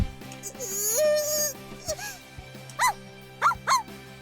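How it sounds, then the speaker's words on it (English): A dog barks in a visual novel game, several yipping, whimpering barks in short bursts with one long whine, close and clear over a quiet musical background. "Pooch came like reinforcements and began to bark."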